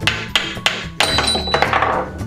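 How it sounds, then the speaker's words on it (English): A toy hammer strikes Paw Patrol racer balls through holes in a plastic toy, four sharp knocks in a steady rhythm followed by brighter rattling and clinking, close and fairly loud. "Let's hammer all 3 balls through this one hole so we can hear the music"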